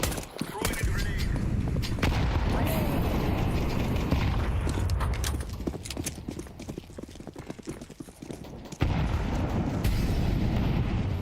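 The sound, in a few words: grenade thrown and exploding in the video game CS2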